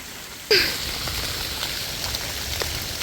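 Steady rain with wind patters on foliage in a forest, a continuous soft hiss with a brief sharper burst near the start.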